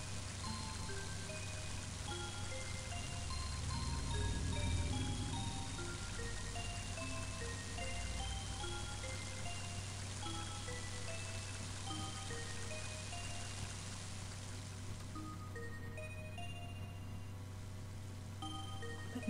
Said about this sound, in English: That rain's really fucking relaxing.